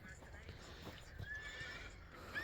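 A tall stallion, about 1.70 m, gives a clear, fairly close whinny midway through, with a soft hoof clip-clop and someone talking throughout.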